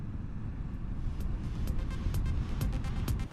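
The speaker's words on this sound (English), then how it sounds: "this HJC helmet is pretty noisy in terms of wind" Steady, roaring wind buffeting inside an HJC motorcycle helmet with the chin skirt fitted while riding, broad and constant from start to finish, with faint intermittent ticks over it and no speech.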